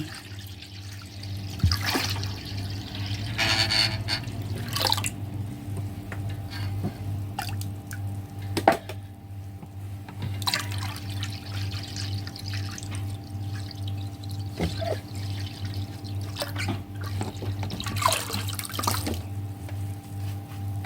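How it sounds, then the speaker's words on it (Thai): Bottled drinking water is poured into a container while making caramel plum wine, a long, steady trickling and splashing stream with scattered drips and gurgles, close and moderately loud, with no speech. "ถ้าใครซื้อ น้ำบรรจุขวดพร้อมดื่มนะ สามารถเทลงไปได้เลยนะคะ"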